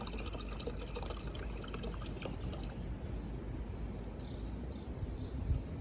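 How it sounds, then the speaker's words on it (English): Water poured into a tank to top up a Jeep on a remote island, a soft continuous splashing and trickle that stops midway, leaving faint ambient noise and a small knock. "We'll just finish topping up the water."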